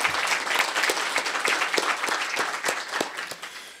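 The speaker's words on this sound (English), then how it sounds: "participation this year by a round of applause." An audience at a chamber of commerce luncheon applauds its board of directors, with dense, loud clapping from many hands and sharp individual claps standing out, sustained with no speech.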